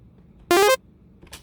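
A bright sawtooth synth from the Sylenth1 init preset, dry with no effects, plays a quick rising arpeggio of three short notes, followed by a fainter brief hit.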